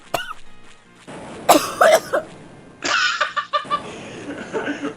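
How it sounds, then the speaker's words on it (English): Repeated coughing from a player during a Star Wars video game session, several harsh bursts in a rough rhythm, close and fairly loud, with noisy game sounds around them. "you're coughing a lot"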